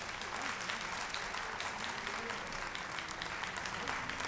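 A live audience applauds a singer after a ghazal performance on a television music show, a steady wash of clapping held at moderate volume throughout.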